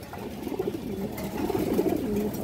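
A female pigeon and her mate, a pair offered for sale, coo in low throaty warbles, close and fairly steady, with a soft hiss of background noise beneath.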